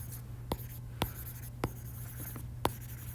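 Pencil marks being erased from a paper geometry worksheet: faint scratchy rubbing with a few sharp little taps spaced about half a second to a second apart, over a low steady room hum, with no voices.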